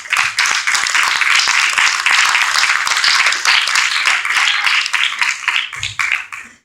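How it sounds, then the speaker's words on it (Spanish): A church congregation breaks into loud, sustained group clapping that fills the whole stretch, dense and continuous before thinning slightly at the close. "Un aplauso a Dios."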